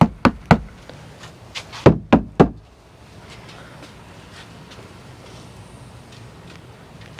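Rear door of a Ford Bronco Badlands fitted with Dynamat sound deadening gives a quick series of short, dull thuds close by, followed by several seconds of quiet outdoor background.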